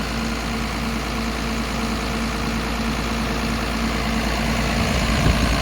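A tractor engine idling steadily, a constant low diesel rumble with vibration, close and loud throughout, no speech.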